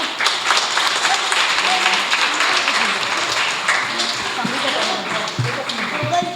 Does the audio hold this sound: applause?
yes